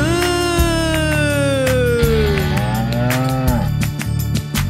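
A cow in a children's song moos in long, loud, gliding calls that slide downward in pitch, set against a steady musical backing.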